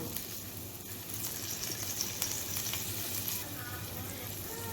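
Onion sautés in oil in the pan just used to fry prawns, a steady moderate sizzle heard close up that grows slightly louder midway, with light stirring scrapes.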